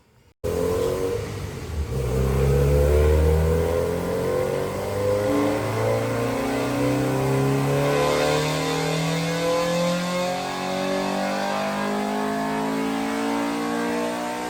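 A Honda D15B SOHC VTEC engine revving hard on a dyno, running up through the rev range in one long, loud, sustained pull with a rising engine note and no talk.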